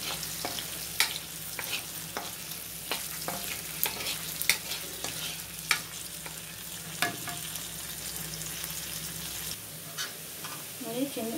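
Small onions frying in a pan for vamu annam, a continuous soft sizzle broken by frequent sharp clacks and scrapes of a spoon stirring, close and moderately quiet, with no talk.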